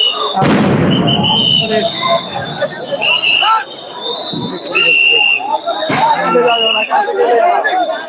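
A loud explosive burst from a sound grenade at a street protest, followed by a second sharp blast, over constant crowd chatter and shouting in a chaotic outdoor scene.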